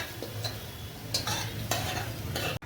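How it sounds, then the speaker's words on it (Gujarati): Ingredients for a Korean-style sauce sautéing in oil in a pan, a steady close sizzle with several scraping strokes of a spoon or spatula stirring at intervals and no talking. "હવે આને 5 થી 7 મિનિટ એમને સાતળવાનું છે"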